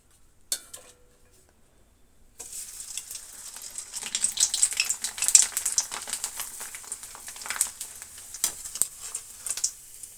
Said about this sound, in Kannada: ಈಗ ನಾವು ಹಪ್ಪಳನ ಹಾಕೋಣ ಫ್ರೆಂಡ್ಸ್